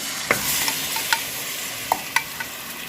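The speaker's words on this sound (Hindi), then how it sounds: "चिकन को अब इसमें मैं फ्राई करूँगी 5-6 मिनट के लिए" Marinated chicken frying in desi ghee and oil for chicken darbari, a steady broadband sizzle with several sharp utensil clinks and scrapes from stirring, close and moderately loud, no voices.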